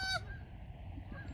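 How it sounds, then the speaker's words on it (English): One short, loud Canada goose honk near the start, followed by quieter background sound at a bird viewing preserve in Henderson, Nevada. "look, it's a Canada goose"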